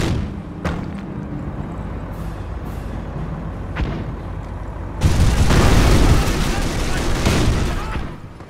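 Artillery fire in the World War II strategy game Company of Heroes, with scattered booms early on and then a heavy, sustained barrage of blasts and gunfire that swells loudly before tapering off.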